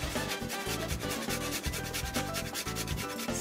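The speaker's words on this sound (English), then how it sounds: "I'm also gonna grate a little bit of nutmeg." Whole nutmeg is grated for a sponge cake batter, a close, quiet rasping scrape repeated in quick, even back-and-forth strokes with no talking.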